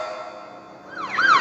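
A police siren wails as the police arrive, its tone starting steady and then sweeping up and down, loud and close with nothing else around it.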